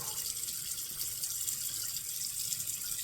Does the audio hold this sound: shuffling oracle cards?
no